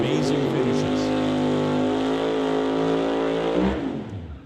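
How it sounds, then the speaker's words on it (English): A ProCharger-supercharged drag race car engine roars loud and steady with a dense harmonic drone, then fades out at the end, with a voice faintly under it. "And that is obviously why his car is louder than the Mustang, which I'm thinking has a turbo."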